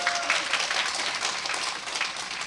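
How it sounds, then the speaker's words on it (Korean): An audience claps at a business presentation, a dense, even patter of many hands that holds steady throughout. "박수 한번 부탁드립니다."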